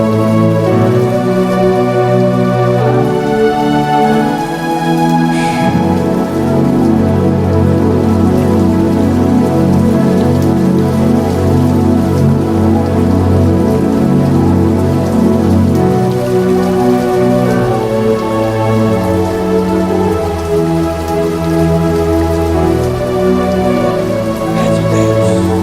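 Heavy rain falling in a steady, dense patter that stays even throughout, loud and close with no voices.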